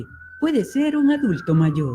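An ambulance siren passing, heard as a steady high tone running right through the moment beneath someone speaking Spanish in the foreground.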